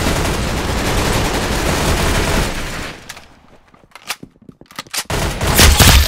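Hand cannon shots from the video game Arsenal boom in a loud sustained barrage, then sharp separate blasts stand out against quieter gaps before heavy fire returns.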